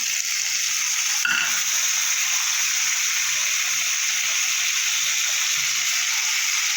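Chopped tomatoes sizzle steadily with partly fried potatoes in a pan, a continuous close frying hiss with a brief clatter early on and soft stirring knocks.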